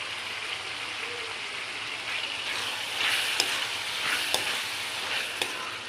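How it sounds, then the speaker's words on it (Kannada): Tomatoes frying in a pan with oil while egg rice is cooked, a steady broad sizzle throughout with a few sharp spatula scrapes and taps near the end, close and moderately loud with no talk. "ಟೊಮೊಟೊ ಹಾಕ್ಕೊಂಡು ಸ್ವಲ್ಪ ಚೆನ್ನಾಗಿ ಫ್ರೈ ಮಾಡೋಣ"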